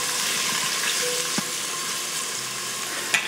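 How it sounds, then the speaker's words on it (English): Sausage sautés in hot grapeseed oil inside an Instant Pot, giving a steady, close sizzle with a couple of light utensil taps. "now I'm going to add the sausage first, and I'm going to saute that to just kind of caramelize them"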